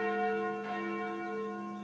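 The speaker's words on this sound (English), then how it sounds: "Those sounds like the church noontime bells." Church noontime bells ring in the video game Sucker for Love, a sustained, resonant tone with layered overtones humming steadily and moderately faint.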